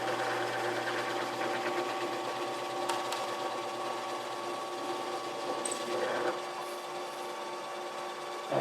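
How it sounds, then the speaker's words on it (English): A power drill whirs steadily as it bores into a wooden part for an alligator pull toy on a workbench, a quiet, even motor hum with faint grinding. "So I'm going to drill this one."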